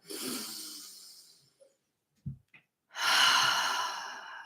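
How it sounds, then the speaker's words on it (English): A person takes a really big deep breath during an anxiety-focused emotion healing session: a long, airy inhale, a brief pause with small mouth sounds, then a full, audible exhale, close and clear, with no talking. "Go ahead and take a really big deep breath."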